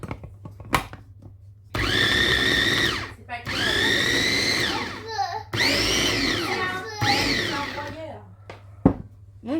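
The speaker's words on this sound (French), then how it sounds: "je vais le mixer." A kitchen blender whirs loudly in three separate bursts while blending a stuffing mixture, each burst lasting about a second or two, with short pauses and brief voices in between.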